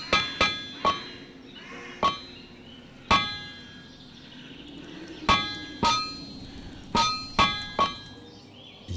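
Small hammer striking iron on an anvil while forging in TerraFirmaCraft, a series of bright metallic clangs with ringing tails, irregularly spaced, sometimes in quick pairs or triplets, clear over a faint background hum.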